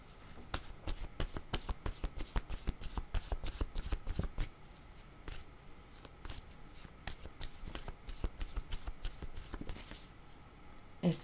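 Tarot cards are shuffled by hand over and over in quick, crisp bursts of rustling and slapping, close and fairly quiet, with short pauses between rounds.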